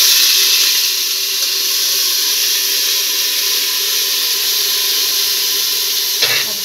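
Washed rice tipped into a hot pan with lightly browned fennel seeds for sweet carrot rice: a loud, steady, close sizzle and hiss throughout, with a brief scrape near the end.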